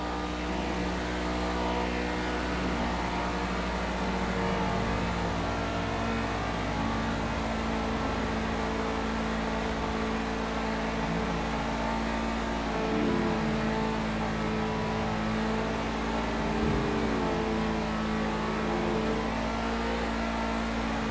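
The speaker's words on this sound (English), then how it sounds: "The sound that engine makes on the freeway." A car engine cruising on a freeway in GTA Online, a steady low drone with road noise holding level throughout, with slight pitch shifts as the engine note rises and settles. No talking.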